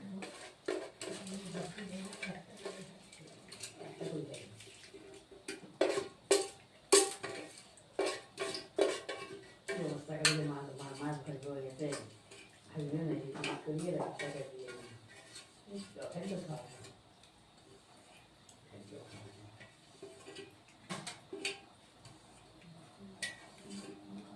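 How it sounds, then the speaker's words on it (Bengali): A spoon stirs vegetarian winter-vegetable khichuri made with masoor and mung lentils in a pot, giving irregular clinks and scrapes against the metal, clustered then sparser, while a voice talks at times. "এখন লাড়া দিয়ে দিচ্ছি বন্ধুরা, এটা এখন হতে থাকবে।"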